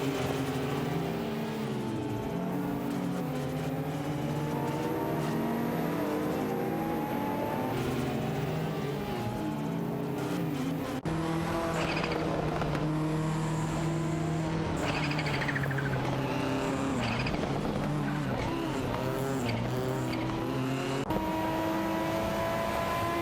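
Race cars, a Porsche 928 GTS and a Lancia Delta, roar through a continuous high-revving engine drone in an AI racing video game, the pitch climbing and dropping with gear changes and passes throughout.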